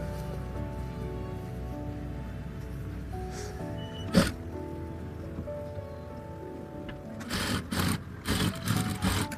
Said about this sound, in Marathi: एक टिप आपण मारूया.